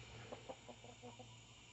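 An older hen clucks softly in a quick run of five or six short notes, faint over a steady background hum on a small farm.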